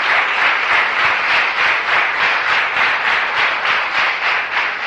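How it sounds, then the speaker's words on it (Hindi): A lecture audience claps loudly in a fast, pulsing rhythm, the applause swelling in regular beats as if partly in unison, close and sustained for several seconds with no speech. "तो जोरदार ताली बजाओ अपने लिए।"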